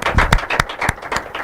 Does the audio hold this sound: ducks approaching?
no